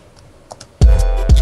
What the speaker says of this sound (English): who's typing like a madman right now?